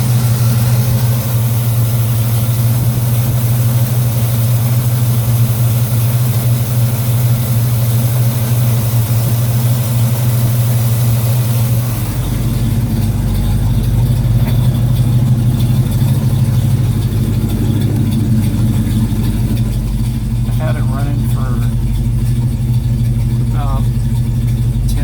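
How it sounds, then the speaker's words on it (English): A 1966 Chevelle SS V8 with a five-blade fan and fan clutch idles at about 650 rpm, a steady loud low rumble with a strong hum that shifts tone about halfway through. "It's like idling at about 650"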